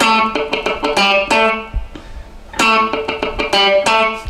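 A distorted electric guitar plays a choppy funk riff, sharp chords interleaved with quick percussive muted clicks, pausing briefly before the pattern resumes.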